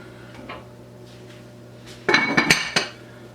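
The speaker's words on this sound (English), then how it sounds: "So I'm going to let that sit, put the lid on it" Metal lid set onto a cooking pot of carnitas, a sharp cluster of clanks and clinks close by, ringing briefly after a quiet kitchen hum.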